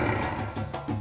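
A big cat, a jungle or savanna predator, gives a deep, rough roar in short repeated pulsing bursts, loud and close, with no other sound around it.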